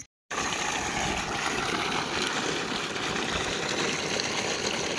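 A steady, loud rush of water flowing through a farm field fills the clip after a brief silent start, constant and broadband with no talking.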